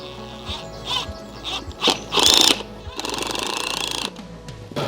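A power drill driving screws into a garden post to mount a solar spot light, with short revving bursts and a longer steady buzzing run, close and loud.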